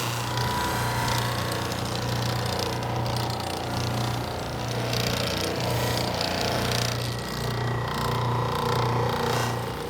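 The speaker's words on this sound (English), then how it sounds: "Now I'm gonna go ahead and move to the buffing wheel and start buffing this." A buffing wheel spins while polishing a nonstick pan with rouge compound, giving a loud, continuous motor drone with rough, grinding friction that pulses slightly as the pan is pressed against it, with no talk.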